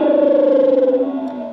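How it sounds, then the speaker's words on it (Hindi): The Eclipse mode mood sound from an Ola electric scooter running MoveOS 3.0 plays as a short synthetic tone with a pulsing, warbling texture that slowly glides downward and fades, loud and alone. "हाँ, तो ये है एक्लिप्स मोड का साउंड।"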